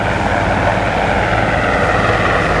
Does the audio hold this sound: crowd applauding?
no